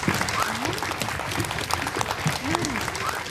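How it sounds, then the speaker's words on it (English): An audience applauds children who just played trees in a storybook theatre production of Little Red Riding Hood, steady clapping filling the room with faint voices and murmurs mixed in. "And can we give them an applause?"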